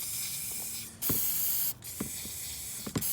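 Spray paint can hissing in several short bursts with brief pauses between them, a steady broadband spray at moderate loudness heard alone, used for paint art.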